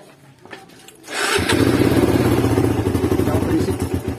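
A motorcycle engine is started after a camshaft installation: quiet clicks and clatter, then the engine catches and settles into a loud, steady, slightly rough idle close by.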